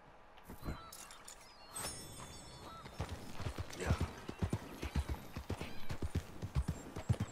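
Horse hooves clip-clop during riding in Red Dead Redemption 2, starting sparse and then settling into a steady, close rhythmic gait that grows louder toward the end.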